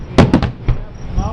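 Fourth of July fireworks bursting in a quick series of three loud booms, followed by a softer fourth blast, with people talking excitedly nearby.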